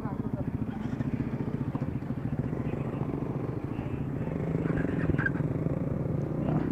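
A heavily modified KTM Duke 390 motorcycle engine runs steadily nearby with a dense low rumble, swelling slightly louder toward the end, while voices talk over it.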